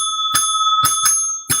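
A bright metallic bell rings close and loud in four quick strikes, two of them nearly back to back, each leaving a short ringing tone with quiet gaps between.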